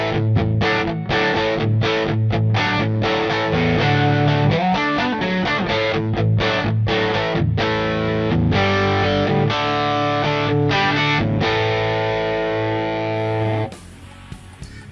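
Electric guitar through a Line 6 POD HD with Tube Screamer overdrive, chorus, amp and digital delay, chords and notes ringing out with delay repeats and reverb, then cutting off abruptly near the end.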